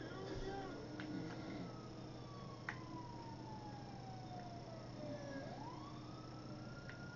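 A police siren in GTA 5 wails in long falling and rising sweeps, fairly distant, over a steady low background hum.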